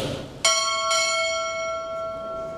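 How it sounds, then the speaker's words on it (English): Two sharp strikes of a ship's bell at a U.S. Navy Chief Petty Officer pinning ceremony, each clear metallic clang blooming and sustaining as it slowly fades in a quiet hall. "Strike. Two bells."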